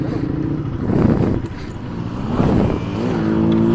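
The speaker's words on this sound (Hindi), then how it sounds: "और बाकी बाइक्स भी आ रही है लाइन से।" A line of motorbikes on a monsoon Sunday group ride near Raipur roars past in close succession, engines swelling and fading as each one passes nearby, loud and continuous.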